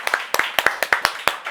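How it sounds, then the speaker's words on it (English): A few people in a studio clap in a sparse, uneven rhythm, roughly a dozen close, sharp hand claps over a moment, following a musical performance with a choir. "Let's give a clap in the studio."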